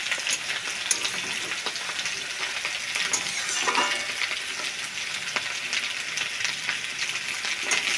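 Onions and potatoes fry in a pan as a dense, steady sizzle at close range, with faint stirring scrapes and no voices.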